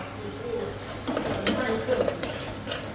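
A spoon stirs chopped tomato in a cooking pot: a low simmer, then a few scraping strokes and soft clinks against the metal, close by.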